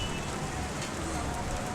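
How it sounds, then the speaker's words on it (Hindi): Steady rain falling outdoors during a children's last-to-leave circle challenge, an even broadband patter and hiss that holds without a break, with a faint murmur of voices underneath. "अभी बारिश भी होने लगी है"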